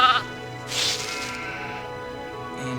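Sheep bleat in the strategy video game Anno 1602, a short nasal bleat at the start followed by a burst of bright noise and a faint later cry, all against a quiet layered game background.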